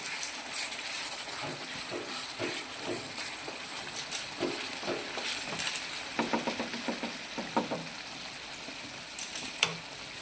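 Green pea and potato curry with kasuri methi is stirred in a hot pan, giving a continuous sizzling hiss broken by quick scraping strokes and soft spoon taps, louder toward the end.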